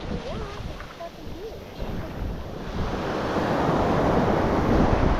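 Ocean surf rolling onto the beach at Manasota Key, a steady wash of breaking waves with wind buffeting the microphone, swelling louder toward the end; no one talks.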